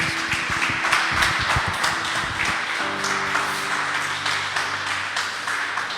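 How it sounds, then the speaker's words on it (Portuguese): Sustained clapping from a church congregation during a sermon, steady and fairly loud throughout, with a low held musical tone entering partway through. "Quem pode aplaudir Jesus bem forte?"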